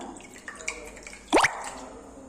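Liquid drips from a peel as it is squeezed by hand: one brief, close plop of falling liquid against a quiet background.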